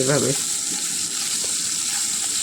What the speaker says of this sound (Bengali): সরষের তেল গরম হতেই চিংড়ি মাছগুলো ভালো করে ভেজে নেব।